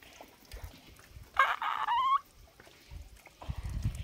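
A village chicken lets out a loud, drawn-out crow-like call lasting under a second, with softer clucks and rustling around it in an otherwise quiet outdoor setting.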